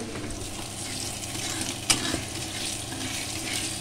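Fish and potato pieces fry in hot oil in a pan with a constant even sizzle, interrupted once by a single sharp clink of a utensil, close and steady with no voices.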